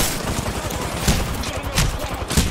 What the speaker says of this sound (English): Oh, where's that shooting coming?